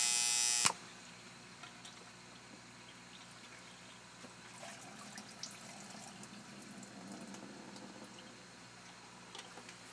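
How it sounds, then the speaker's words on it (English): Faint trickle of PhotoFlow solution being poured into a film developing tray during large format black-and-white film processing, a quiet continuous splashing after a brief sharp knock at the start, with no talk. "I'm gonna fill up this tray with PhotoFlow"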